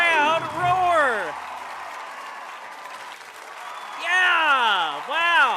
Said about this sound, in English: Listen to that crowd roar.